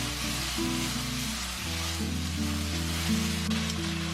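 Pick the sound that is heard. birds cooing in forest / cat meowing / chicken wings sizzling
chicken wings sizzling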